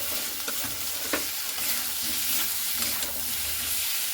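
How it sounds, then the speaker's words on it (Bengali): Young jackfruit sautéed with spices in a pan over a gas flame, stirred steadily: a continuous close sizzle with scraping stir strokes at regular intervals, no voices. "তো এখানে কিন্তু আমি খুব ভালো মতো করে দেখুন কষছি"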